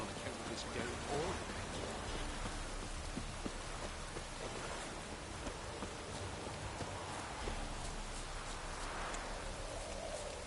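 Steady rain downpour in The Witcher 3, a continuous broadband hiss of falling water with scattered drop impacts, with talking over it throughout.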